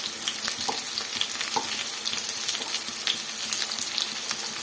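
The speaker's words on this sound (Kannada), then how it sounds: "ಜೀರಿಗೆ ಮೆಂತ್ಯನ ಈ ಟೈಮಲ್ಲಿ ಸೇರಿಸ್ಕೊಳ್ಳೋಣ. ಇದು ಸ್ವಲ್ಪ ಫ್ರೈ ಮಾಡ್ಕೊಳ್ಳೋಣ." Cumin and fenugreek seeds frying in a pan, a close, continuous crackling sizzle with light stirring scrapes and small pops, no talking.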